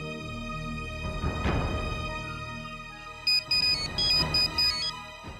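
A phone ringtone rings in short repeated electronic bursts after a few seconds of low background noise, fairly close and clear.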